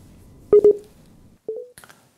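Telephone keypad tones dial in a call to a live TV show: two quick beeps, a pause, then another tone and a short faint blip, clear and close with no talk.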